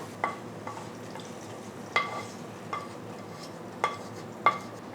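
A spoon stirs thick gram dal and broken wheat pradhaman in a pot, five or six distinct metallic clinks spaced about a second apart over a faint low bubbling background, no talk.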